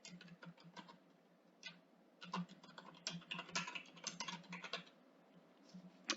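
Quiet computer keyboard typing in irregular bursts of clicks, close and fairly soft, with brief pauses between runs of keystrokes as an email address is entered.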